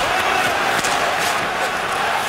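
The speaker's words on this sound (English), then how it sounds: "Crowd encouraging them before this faceoff" Hockey arena crowd in an NHL playoff game between the Pittsburgh Penguins and New York Rangers, a dense, steady roar of cheering fans just before a faceoff, loud and continuous throughout.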